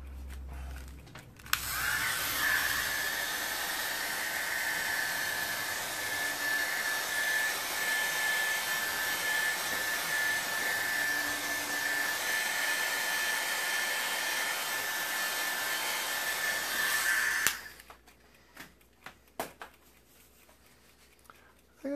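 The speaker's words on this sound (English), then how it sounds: "So bear with me as I get the hairdryer out for a few seconds." A hairdryer blows steadily on a watercolour storm painting, a loud continuous whir with a faint whine that runs for about fifteen seconds before cutting off, leaving brief quiet handling noises.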